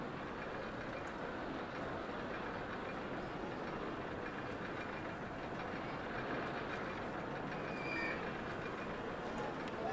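A miniature railroad train running through a theme park in a management game, heard as a steady, continuous rail clatter and rumble mixed with soft crowd ambience, fairly quiet throughout.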